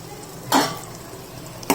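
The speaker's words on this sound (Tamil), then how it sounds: "ஸ்மாஷ் ஆகிற வரைக்கும் இதை வதக்கி விட்டு" Tomatoes sautéing in a pan for a bread sandwich filling, heard as a brief stirring scrape with light sizzle over a steady frying hiss, close and moderately loud.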